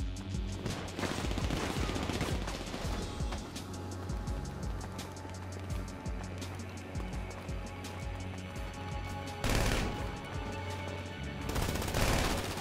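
Sustained machine-gun fire in GTA V Online, dense rapid shots rattling continuously over engine-like rumble and game ambience, with heavier bursts near the end.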